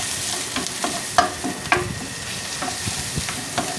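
Ginger and garlic paste is stirred and fried in a pan for egg gravy, giving a steady close sizzle broken by regular scraping strokes and a couple of sharper utensil knocks, with no talking.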